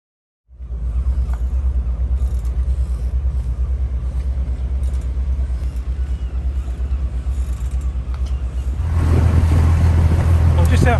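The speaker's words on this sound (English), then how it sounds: "Out for a little rib ride" A rigid inflatable boat motors across the water near the Isle of Wight with a steady, loud low engine drone and hull rumble that swells louder and rougher near the end as it speeds up.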